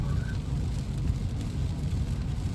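Steady rain drums on a car while driving through a scenic Scottish glen, a continuous dense hiss over low road rumble with no talking.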